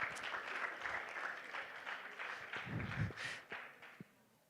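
A church congregation claps during a worship service, a steady, moderately distant patter of many hands that swells and fades over a few seconds with a low room rumble beneath.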